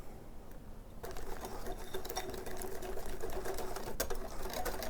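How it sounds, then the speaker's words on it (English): Whisking a flour and milk batter for a roast dish: a faint, steady rapid tapping and scraping of a whisk that continues throughout, quiet and close. "So you can whisk till your heart's content, get all those lumps out as best you can."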